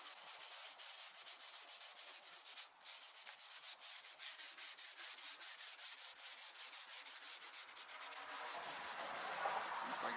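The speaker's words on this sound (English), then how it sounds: "But I'm gonna sand it, get it rough." Steady, rhythmic rubbing strokes of sandpaper scuffing the underside of a 1996 Mustang spoiler to rough it up before repainting, close and continuous for the full length, slightly brighter toward the end.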